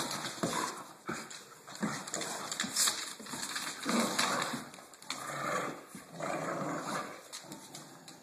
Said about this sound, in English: The little dog's the one that's barking or growling.